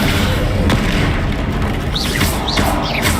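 The Descendo spell slamming a target in the Hogwarts Legacy video game on PC: a loud, dense booming rumble with heavy low thuds and whooshing swells, sustained throughout amid other game effects.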